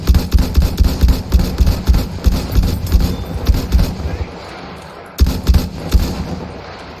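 Rapid bursts of video game gunfire crack loudly in quick succession, pause briefly near the end, then resume with more close shots, while players talk over the shooting.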